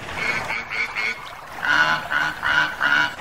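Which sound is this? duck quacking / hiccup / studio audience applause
duck quacking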